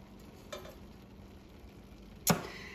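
Chicken and broccoli cook quietly in a pan with a soft, even sizzle, broken by a light tap early on and a sharper metallic clink near the end.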